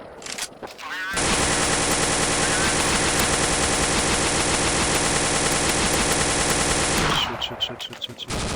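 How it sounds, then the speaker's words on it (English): Counter-Strike zombie escape gunfire, with a dense, unbroken wall of rapid automatic shots from many weapons firing together, loud and continuous for about six seconds, framed by brief game noise before and after. "Just get inside and shoot, get inside and shoot."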